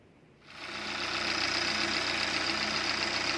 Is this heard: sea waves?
no